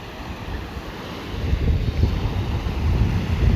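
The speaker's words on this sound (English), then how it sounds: "Even though I'm out here by the beach, by the ocean." Ocean surf washes and rumbles steadily at a beach, swelling in loudness partway through, with gusty wind noise over the microphone and no voices.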